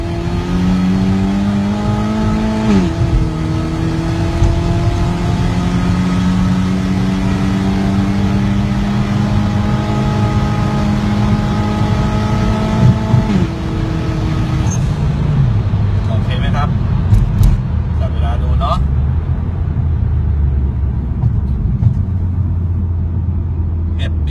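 Honda Civic FB automatic fitted with a turbo revs loud and continuous, its engine pitch climbing and dropping through shifts as it pulls away, with road roar throughout.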